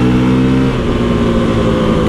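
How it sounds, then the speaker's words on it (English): A Honda CRF450RL dirt bike engine revs hard under acceleration, loud and close throughout, its steady drone shifting pitch as it pulls, with no talking over it. "this bike has got a lot of power"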